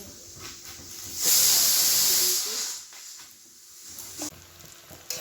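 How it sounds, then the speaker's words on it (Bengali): Onions and garlic fry in a pan, breaking into a loud, steady sizzling hiss for a second or so before settling to a softer crackle, with faint kitchen clatter. "যে পেঁয়াজ রসুনগুলো ভাজতে বসিয়ে দিয়েছি"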